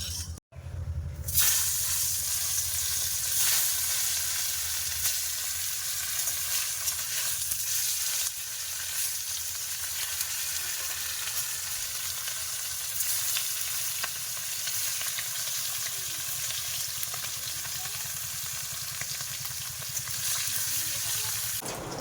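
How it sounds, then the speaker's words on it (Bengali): Fish coated with salt and turmeric fries in hot oil in a kadai, a loud continuous sizzle and crackle that keeps going. Occasional stirring and clinks sound under it. "যে মাছে লবণ হলুদ মাখিয়ে নিয়েছি, মাছটা লেগে যাচ্ছে নাকি, একটু গরম হোক।"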